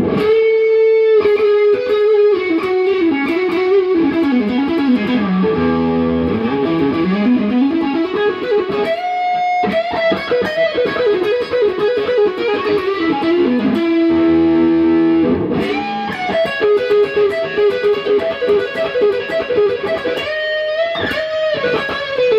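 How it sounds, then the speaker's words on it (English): Heavily distorted single-coil electric guitar through a Carl Martin Plexitone pedal, playing a fluid, sustained lead line with bends and held notes, loud and continuous with no voices. "So I won't give you the clean signal, I'll just give you the distortion."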